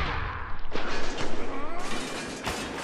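Gunfire in Spec Ops The Line multiplayer, a burst of several sharp rapid shots with thumping impacts, fairly close and loud over a couple of seconds, with a voice speaking nearby.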